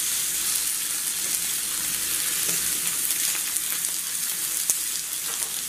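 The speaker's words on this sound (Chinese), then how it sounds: "大火煎1分钟。" Chicken breast pan-frying over high heat in a hot pan, a steady close sizzle with faint crackles and a few soft pops throughout, no voices.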